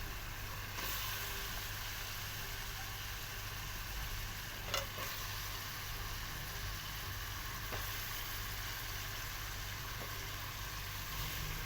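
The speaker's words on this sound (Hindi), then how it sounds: "अब इसके अंदर हम आलू ऐड करेंगे।" Potatoes go into hot, frying masala and are stirred for an aloo matar curry: a steady, dense sizzle continues throughout, with a couple of brief clinks of the stirring utensil and no talking.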